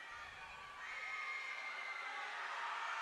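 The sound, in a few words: basketball crowd cheering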